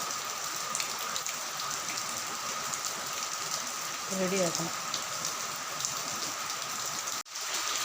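Heavy, continuous rain pours down as a steady, dense hiss close around, while someone talks briefly over it partway through.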